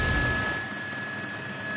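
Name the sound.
Nepal Army helicopter over flooded area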